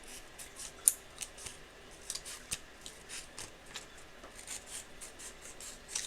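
Scissors snip through paper for a collage in a series of quiet, close, irregular cuts, each a short crisp rasp, with no talking.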